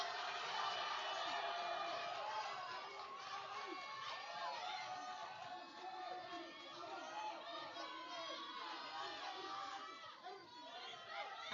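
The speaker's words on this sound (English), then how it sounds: "People cheering her on." A junior national weightlifting competition hall fills with a crowd cheering and shouting for a woman lifter, a steady, distant roar of many voices that holds throughout.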